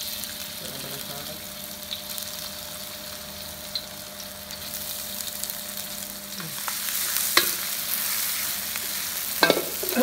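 Bird's eye chili and garlic sizzle and crackle in a hot pan for a pork stir-fry, with steady frying and occasional stirring scrapes, while someone talks.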